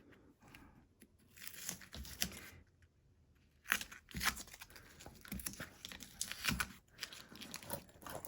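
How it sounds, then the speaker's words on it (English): Corner tapes are peeled up from a machine-embroidery hoop for a zip bag, giving quiet close crinkling and tearing rips in short irregular bursts with pauses between. "go ahead and pull up your 4-corner tapes"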